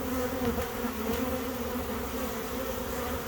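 Honeybees buzzing around a tree branch where stragglers remain after a swarm, a steady close drone with no pauses.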